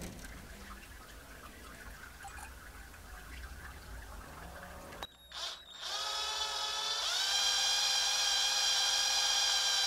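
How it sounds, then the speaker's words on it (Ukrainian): A small drill bores a 1 mm hole in a homemade fishing lure: after quiet room noise, the motor starts with a brief stutter, then settles into a steady, close, high-pitched whine. "Тепер зсередини в нижній частині треба просверлити отвір діаметром 1 мм."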